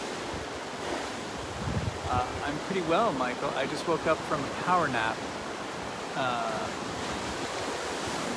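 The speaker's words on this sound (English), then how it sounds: "We got some wind here." Gusty wind buffets an outdoor microphone with a roaring, surf-like rush that runs throughout, while a person talks over it.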